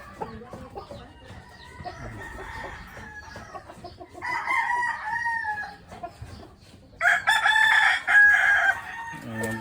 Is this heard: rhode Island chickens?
yes